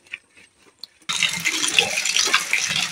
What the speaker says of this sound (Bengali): এইভাবে জল দিয়ে মাছটাকে ভালো করে আমি এখন ধুতে থাকবো